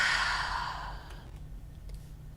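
A long, breathy exhale is pushed out audibly and fades away over about a second, followed by quiet room noise.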